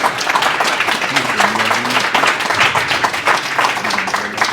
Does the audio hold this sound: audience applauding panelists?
yes